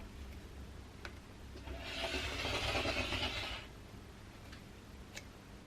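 Rotary cutter slicing through quilt fabric along a ruler, a steady close rasping cut lasting about two seconds between a few light ticks and handling sounds.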